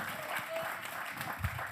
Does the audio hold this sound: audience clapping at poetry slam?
yes